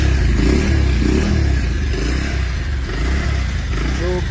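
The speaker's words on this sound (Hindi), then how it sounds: "एंड ये रहा एग्जॉस्ट नोट." A 2021 Bajaj Pulsar 150 BS6 motorcycle idles with a quiet, steady low exhaust rumble that stays even throughout, with no talking over it.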